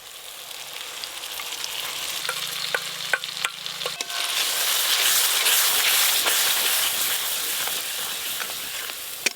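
Spice paste being stirred and fried in hot oil for a tilapia fish curry, a steady close sizzle with scraping spoon strokes and a few sharp knocks, the frying growing louder and fuller halfway through.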